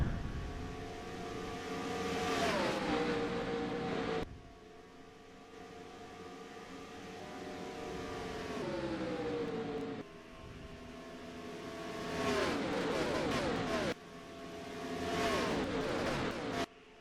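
NASCAR race cars thunder past at the start of the Bud Shootout, loud engine roars rising and falling in pitch as cars sweep by in repeated waves, with brief cuts between passes and no talk.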